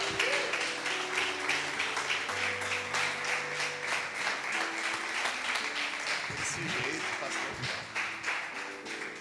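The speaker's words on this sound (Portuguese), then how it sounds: "E as palmas louvam e engrandecem o nome do Senhor." A church congregation claps in praise during a worship service, a dense, steady wash of applause sustained throughout alongside music and voices.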